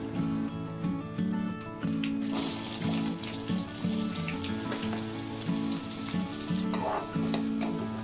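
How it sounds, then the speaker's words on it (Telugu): Onions frying in hot oil in a kadai with mustard seeds, fenugreek and cumin, a steady close sizzle with occasional stirring scrapes, continuous over a faint melodic background. "ఉల్లిపాయలు లైట్ గోల్డెన్ కలర్ వచ్చేంత వరకు వాటిని చక్కగా వేయించుకోవాలి."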